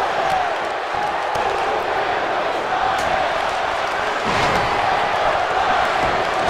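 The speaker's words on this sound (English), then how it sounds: "The crowd chanting louder than the music, but Kane's in this match." A dense arena crowd roars and chants throughout a WWE 2K18 Royal Rumble match, a steady loud wash of voices with a faint musical tone beneath and a brief swell near the end.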